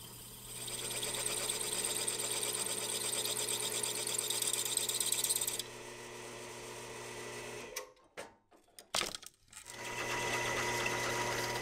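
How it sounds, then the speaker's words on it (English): A drill bores out small holes in a brass pin casting to a quarter inch, a steady high whine running for several seconds, then stopping and restarting in short bursts before a final continuous run. "I decided to drill them out so that they would match the brass that I already had"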